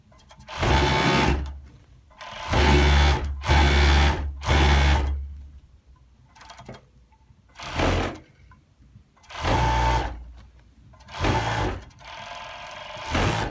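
An overlock sewing machine stitches along the fabric of a seat cover in several loud bursts of rapid mechanical whirring, separated by short pauses as the material is guided and repositioned.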